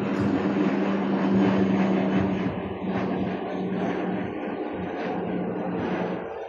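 A steady, loud roar of a Cebu Pacific passenger airplane fills the clip, a continuous engine drone with a low hum, no voices.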